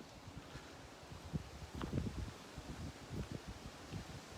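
Moderate wind gusts blow during a peaceful outdoor countryside walk, a soft, uneven rushing and rustle that rises and falls, faint and without talk.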